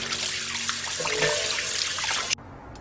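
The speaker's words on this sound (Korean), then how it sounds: "물에 담궈뒀던 고구마는 이렇게 흐르는 물에 헹궈서 체에 받쳐 물기를 빼주세요." Running tap water splashes steadily over thinly sliced sweet potatoes being rinsed in a sieve, a close hissing gush that stops abruptly near the end.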